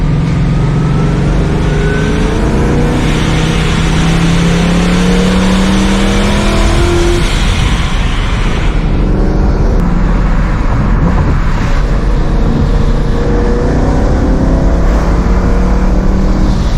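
A supercharged Ford Mustang driven hard at night on a Fourth of July drive, heard from the cabin: loud sustained engine roar with rising and falling revs and road noise, and no talk.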